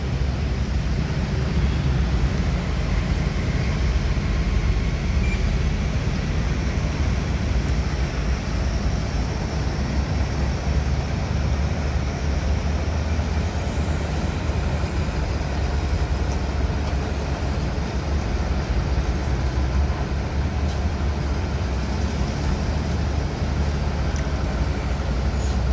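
A Sinar Jaya bus idles at a busy bus terminal, its engine giving a low, steady rumble that carries on evenly for the whole stretch, moderately loud and without any break.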